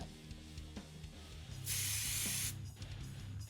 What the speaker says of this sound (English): Just a nice little light spray there, and probably just a little bit on his back as well.